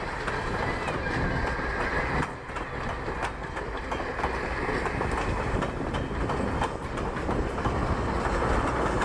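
Old train number 9 rolls along the track right beside the listener, a continuous loud rumble with rhythmic clickety-clack of wheels over rail joints and a faint squeal.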